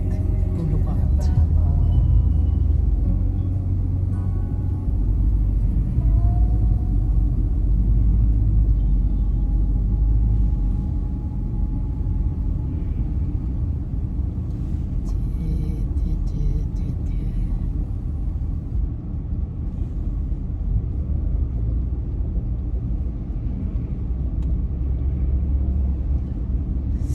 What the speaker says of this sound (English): driving along Sisowath Boulevard.